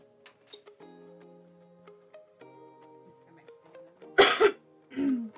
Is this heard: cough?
yes